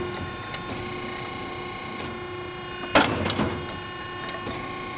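A Piranha ironworker machine punches a hole through steel, giving one sharp metallic crack over a steady motor hum, then a short rattling decay.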